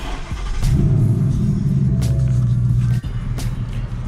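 A 2019 Ford Mustang GT running an E85 race tune fires up and settles into a loud, steady, deep idle rumble up close, with a brief dip and catch about three seconds in.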